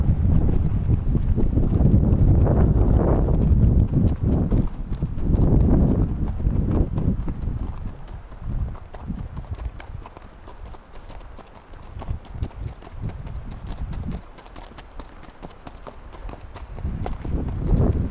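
A ridden horse's hooves clip-clop at a steady walking rhythm on an outdoor trail, close and fairly loud under heavy wind noise buffeting the microphone, with no talk.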